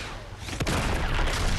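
Gunfire in the action video game Uncharted 2, a dense continuous fusillade of rapid shots with a sharp blast partway through, loud and unbroken throughout.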